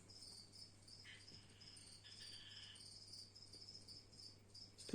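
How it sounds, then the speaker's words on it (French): Pet frogs whistling and singing outdoors, a faint steady high trilling chorus running throughout with soft background hiss and no talk. "je sais pas si vous les entendez, mes grenouilles"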